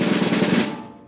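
A double stroke roll on a drum, a fast, even run of paired strokes. It sounds close and sustained for under a second, then decays and rings out.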